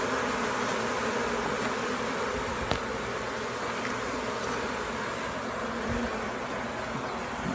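A honey bee swarm fans and hums at a mailbox hive box, a dense, steady buzzing drone that fills the whole stretch, loud and close with no pauses.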